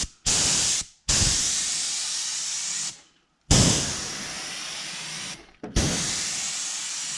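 Spray paint is applied to a large musky fishing bait in three long, loud, close hissing bursts separated by short silent gaps.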